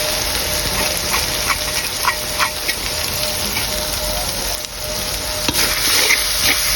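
Noodle spice masala being stirred in a hot pan: a loud continuous sizzle with light scraping strokes of the utensil through the mix, close up, with one brief dip near the end.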